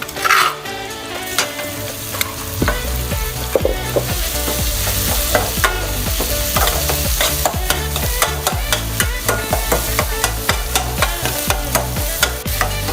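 Red curry paste being stir-fried in a pan for a spicy Thai eel dish, a loud, continuous sizzle broken by rhythmic scraping strokes of a spatula against the pan.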